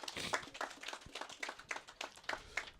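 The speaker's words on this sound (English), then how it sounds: "let's give him a round of applause" Faint, thin applause from a small crowd at a house handover ceremony, with a handful of uneven claps in a loose rhythm at a distance.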